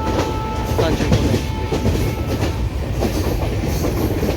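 Kanchan Kanya Express train running on the tracks, a loud continuous rumble with rhythmic wheel clatter heard from inside the carriage.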